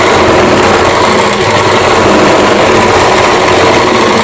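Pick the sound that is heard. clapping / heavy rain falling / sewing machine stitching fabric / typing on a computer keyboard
sewing machine stitching fabric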